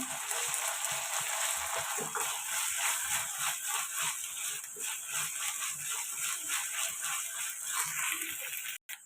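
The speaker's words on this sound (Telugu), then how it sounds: "ఒక స్పూన్ అల్లం వెల్లుల్లి పేస్ట్ వేసుకోవాలి ఇది కూడా పచ్చివాసన పోయేదాకా ఫ్రై చేసుకోవాలండి" Ginger garlic paste sizzles and crackles steadily in a hot pan while a dry fish curry is being made, a continuous close frying hiss with small pops.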